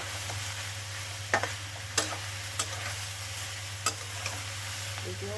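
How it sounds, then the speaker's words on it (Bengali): Beet greens frying in a pan give a steady sizzle with occasional spatula clicks and scrapes as they are stirred, set over a low constant hum, no speech. "শাকটা দিয়ে ভালো করে ভেজে নিতে হবে যাতে শাকের কাঁচা গন্ধটা না থাকে।"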